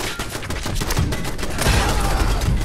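Rapid gunfire in the video game Fallout 4, a dense continuous burst of sharp shots fired in quick succession, loud and close throughout with no talking.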